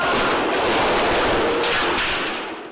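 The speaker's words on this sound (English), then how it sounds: "That's the grenade explosion." A grenade explosion in Juárez, Mexico erupts as a loud, broad burst of crackling noise that rolls on for a few seconds before tailing off, with no voices.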